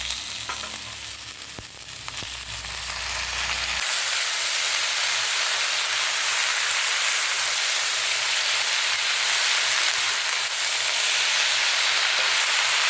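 Mustard greens frying in a pan with potato and onion, a loud steady sizzle and hiss filling the whole stretch after a brief clatter of ingredients going in at the start.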